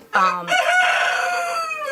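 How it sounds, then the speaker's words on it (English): A rooster crows right outside a door in the North Maine Woods, one loud, close, drawn-out cock-a-doodle-doo that fills most of the moment, with faint clucking at the start. "I have roosters that hang outside my door here"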